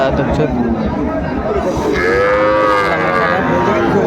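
Cattle mooing loudly at the Aftabganj cattle market, with a long drawn-out low call rising above a busy crowd of people talking nearby.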